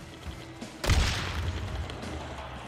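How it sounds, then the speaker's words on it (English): A grenade explodes in the video game Days Gone, a sudden loud boom with a broad rumbling tail that decays over the next couple of seconds amid background game noise. "Grenade!"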